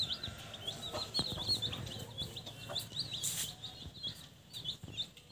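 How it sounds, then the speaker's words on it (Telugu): Newborn native-breed country chicks cluck and peep softly while drinking water, a busy overlapping chorus of short high calls heard close up and fairly quiet. "ఒరిజినల్ జాతి కోళ్ళు అండి"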